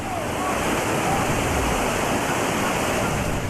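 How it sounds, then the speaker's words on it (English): Raging whitewater rapids on the Trinity River roar as a dense, unbroken wash of rushing water, loud and close and steady throughout. "the raging rapids of the Trinity River thunder"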